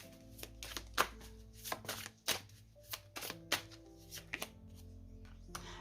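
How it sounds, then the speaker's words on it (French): Tarot cards handled and laid onto a table, a series of crisp, close slapping and sliding taps in an irregular rhythm over soft background music. "on va mettre une carte sur la reine de Pentacle"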